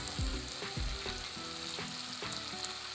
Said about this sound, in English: at this stage I now get to add my garlic and my ginger